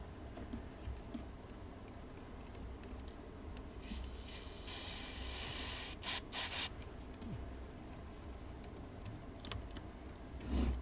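Short bursts of aerosol contact cleaner hiss into an oscilloscope switch during a BK Precision 1420 repair, a longer spray followed by several quick puffs over quiet workbench ticking and handling noise.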